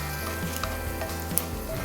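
Tempering spices sizzle steadily in hot oil in a pan, a constant crackling fry with small pops and occasional clinks, with no voices.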